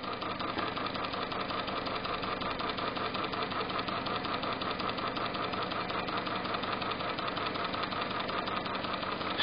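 A Graham Industries TVR1A twin engine ticks over at a bare idle, giving off a steady, even, rapid mechanical chatter and hum that holds constant throughout, close up with no voices.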